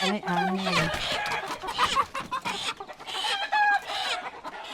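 Chickens cluck in a busy flock, with bursts of clucking overlapping throughout and a voice briefly speaking near the start.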